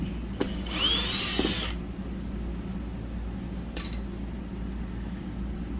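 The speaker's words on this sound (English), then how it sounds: "it is a Phillips head bit. Just going to back those out." A power drill fitted with a Phillips head bit backs screws out of an RV light fixture, giving one loud whirring burst near the start, then a brief second burst, over a steady low hum.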